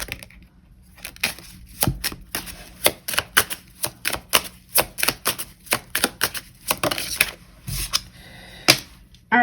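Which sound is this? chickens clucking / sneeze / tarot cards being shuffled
tarot cards being shuffled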